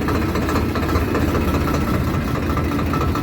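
A tractor engine idles steadily and loud with a low, continuous rumble during sugarcane loading work, with no speech over it.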